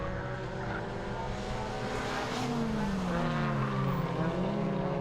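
Suzuki Swift rallycross race cars braking hard into a hairpin and accelerating away, a loud, continuous multi-engine roar with rising and falling engine pitch as the cars close up nose to tail.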